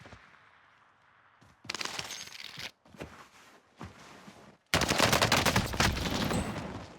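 Assault rifle bursts in Warzone, several loud rapid volleys separated by brief gaps, ending in a long sustained stream of close fire.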